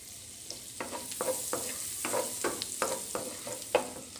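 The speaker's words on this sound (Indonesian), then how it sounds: "Dan bawang putih yang dihiris kecil-kecil. Masukkan bawang putih." Thinly sliced garlic sizzling in hot fat in a pan while being stirred, a steady frying hiss broken by repeated scraping strokes of a utensil, close and without talk.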